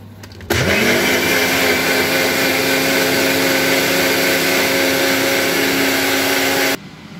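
A blender blitzes broccoli soup made with broth, garlic, ginger, onion and spices, starting abruptly after a brief pause and whirring at a steady, loud, continuous pitch for about six seconds before cutting off.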